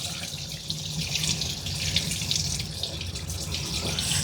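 Steady running water from a tap rinses the top of a dog's head during a bath for skunk odor removal, a continuous close hiss and splash with no voices.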